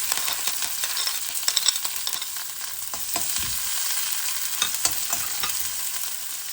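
Dried red chillies, onion, garlic and curry leaves sizzle and crackle in hot oil with mustard seeds for a sweet potato leaf stir-fry, a steady close hiss broken by scattered pops and spoon scrapes.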